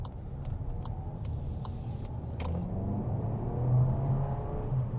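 A Skoda Superb estate with the 1.5 eTSI mild-hybrid petrol engine accelerates, a steady low engine rumble with road noise that swells slightly as it pulls, heard from inside the car without talk.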